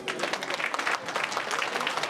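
Audience applause at the 2024 annual day celebration of Kendriya Vidyalaya Laitkor Peak school, a dense, steady patter of many hands clapping close by.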